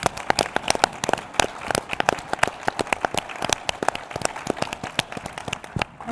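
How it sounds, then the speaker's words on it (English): Audience applause for program externs at an Idaho leadership task force event, a steady stream of sharp, dense clapping that fills the space for several seconds without talk. "Let's give them a round of applause."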